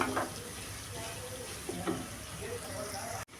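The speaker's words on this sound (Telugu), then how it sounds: "మీడియం ఫ్లేమ్లో పెట్టుకొని ఇలా ఫ్రై చేసుకోవాలి" Paneer cubes fry in oil over a medium flame in a home kitchen, giving a steady, moderately quiet sizzle throughout with a few small bursts and clinks from stirring.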